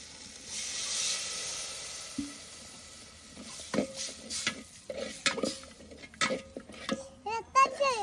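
Ground chilli, coriander and turmeric frying in a pan with a splash of water added, a soft hiss that gives way to irregular scraping stirs and clanks of a utensil against the pan, with a voice faintly heard.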